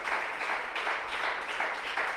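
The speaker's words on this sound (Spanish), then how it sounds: "Denle un aplauso al Señor Jesucristo" A church congregation at a Sunday service applauds, a dense, moderately distant wash of many hands clapping with soft pulsing swells throughout.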